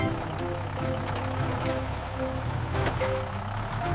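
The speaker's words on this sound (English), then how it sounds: "W is for wrecker." A wrecker tow truck's engine rumbles nearby while steady reversing beeps repeat over it, with a couple of brief clanks and air-brake hisses mixed in.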